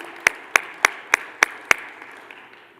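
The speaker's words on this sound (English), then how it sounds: "Can we have a round of applause, please?" A few separate hand claps ring out in a steady rhythm for the panel moderator at the Indo-French Investment Conclave in Hyderabad, six crisp claps fading into quiet room tone.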